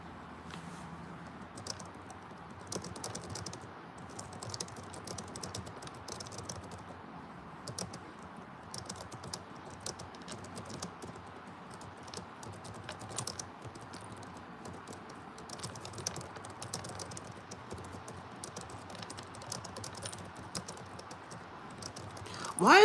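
Keys on a computer keyboard clatter in irregular bursts of quick taps, fairly close and steady throughout, with occasional pauses and no talk over them.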